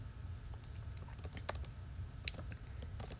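Soft, quick keystrokes on a computer keyboard as a file name is typed in Cricut Design Space, with irregular clicks and one sharper tap midway, close and quiet over a low hum.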